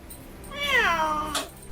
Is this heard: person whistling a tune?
no